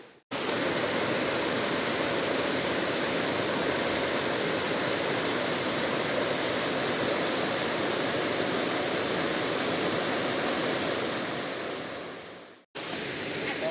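Fourth cascade of Erawan waterfall in Thailand roaring as a loud, dense, unbroken rush of falling water, steady and close for the whole stretch with no voices.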